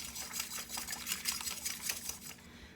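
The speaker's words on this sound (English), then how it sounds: "I'm gonna take my little springy whisk that I love and give them a good beating until they are nice and frothy" Eggs beaten with a springy whisk for pecan pie, a quick, rhythmic metallic swishing and tapping against a bowl, close and fairly soft, easing off at the end.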